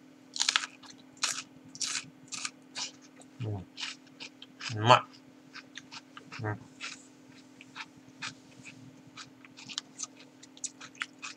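Crunchy chewing of fresh cucumber at a home meal with motsu nabe hotpot and beer, a run of short close bites and munches repeating every second or so, with someone speaking briefly between them.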